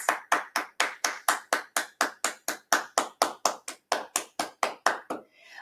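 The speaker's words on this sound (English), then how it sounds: "please give your parents a big hug and a big round of applause for your parents" Rhythmic clapping at a spring piano recital, about twenty evenly spaced sharp claps in a steady beat, close and fairly clean with no talking, the last one trailing off.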